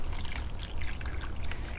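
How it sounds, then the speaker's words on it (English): Harvested rainwater pours steadily into a tray for bottom-watering transplanted seedlings, a close, continuous splashing trickle with no pauses. "You want to water the transplanted plants"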